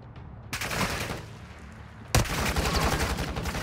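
Gunfire in the Warzone video game: rapid, dense bursts of automatic fire that start abruptly and then continue with a loud crack, keeping up a rattling barrage that stays up close to the end.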